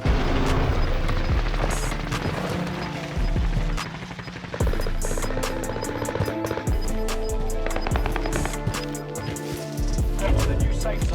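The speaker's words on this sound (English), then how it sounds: "Enemy precision airstrike." A Call of Duty enemy precision airstrike hits in a rapid, dense barrage of loud explosions and gunfire-like cracks. The blasts keep going through the whole stretch, with a short dip in the middle.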